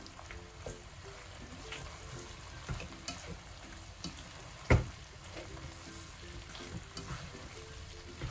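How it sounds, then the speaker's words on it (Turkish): Potatoes with pepper and tomato paste fry in a pan with a soft, continuous sizzle, faint and close, broken by light stirring scrapes and one sharp clink near the middle. "Salçanın kokusu gidene kadar 1-2 dakika daha kavurmaya devam ediyorum."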